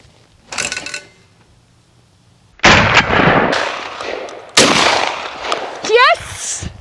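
Rifle shots fired at skeet targets outdoors, several sharp loud cracks with a ringing tail, one isolated report followed by two heavier blasts, with a brief whoop of a voice between them.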